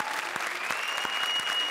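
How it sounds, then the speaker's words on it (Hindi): Applause from a comedy show audience for a performing duo, a dense steady patter of many hands clapping close and fairly loud, with no talking, for a brief stretch. "जोरदार तालियां राजीव और सलोनी के लिए।"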